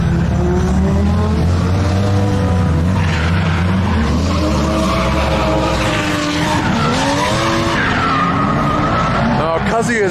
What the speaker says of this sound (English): Kazuya's driving his cut down S15